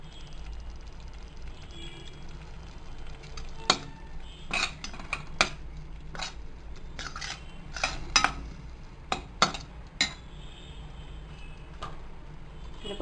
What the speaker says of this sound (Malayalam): അതൊന്ന് വഴറ്റിയ ശേഷം നമുക്കതിൽ നമ്മളെടുത്ത് വെച്ചിട്ടുള്ള മല്ലിയിലേന്ന് പാതി ഇട്ട് കൊടുക്കാം